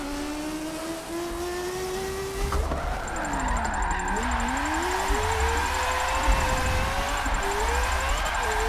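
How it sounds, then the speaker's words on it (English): A Mazda MX-5 drift car engine in a racing video game revs loudly and continuously, its whine climbing and dipping with the throttle and sometimes swooping sharply, with no talk. "This car is insanely loud."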